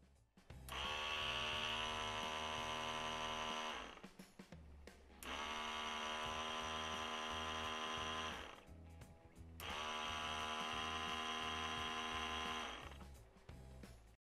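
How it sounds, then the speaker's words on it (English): ABS pump motor from a Mitsubishi Lancer, repaired after fault code C2116, running on a test bench: three separate bursts of steady, buzzing mechanical whine, each lasting about three to four seconds, with short pauses between them. "Now let's apply the pump motor."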